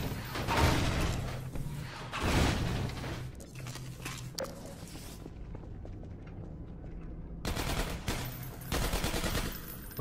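Bursts of rapid gunfire in Half-Life 2: Episode 1 come in several clusters with quieter gaps between them, fairly close and moderately loud, with no talking.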